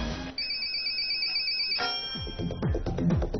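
A telephone ringtone sounds during a game-show phone call to a winner: a steady two-tone electronic ring for about a second and a half, then connection noise and a voice speaking over the line.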